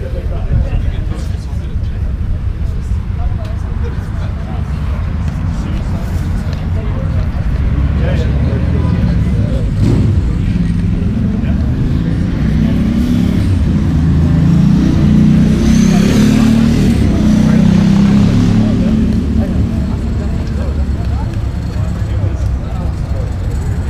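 A Ducati Diavolo Diesel motorcycle rumbles steadily up close at a Ducati owners' club breakfast ride gathering. Its deep engine drone swells slightly midway, with people talking over it throughout.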